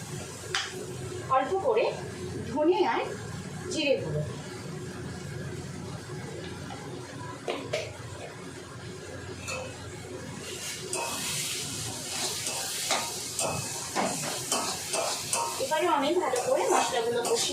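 Spice paste sautés in oil in a pan, with scraping and stirring clatter and a sizzle that grows busier in the second half, while a person talks over it.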